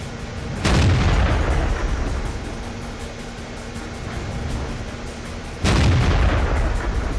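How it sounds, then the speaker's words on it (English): Tank cannon fire in the World of Tanks video game, with a T-29 heavy tank in the fight: two loud, booming shots about five seconds apart, each with a long rumbling decay over a steady low game background. "He's hoping to get a shot into the front hull of that T-29, do some serious damage to it."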